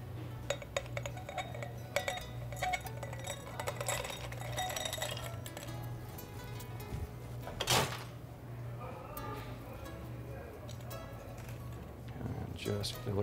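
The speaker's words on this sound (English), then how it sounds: "Fill my glass with ice." Ice clinks into a cocktail glass for a cider sangria at a gastropub bar, with scattered glassy chinks and clatters heard over steady background bar hum and a low continuous drone.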